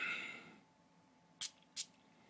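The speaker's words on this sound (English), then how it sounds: "Let me spray some more on." A perfume atomizer of Tauer Rose Absolue or Vanilla Absolue fragrance gives two short, crisp sprays a moment apart, close and clear, after a faint hiss in an otherwise quiet room.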